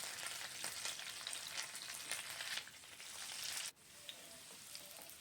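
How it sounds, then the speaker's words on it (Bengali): Potato pieces frying in hot oil for vegetarian Kashmiri aloo dum, a steady close sizzle and crackle running throughout with a brief dip near the end. "একটু লালচে লালচে করে ভাজতে হবে আলুগুলোকে।"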